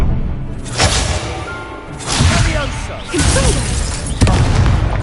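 Bursts of fiery magic from the Incendio spell in Hogwarts Legacy, three or four whooshing blasts spaced a second or so apart, loud and close, mixed with game sound and a speaking voice.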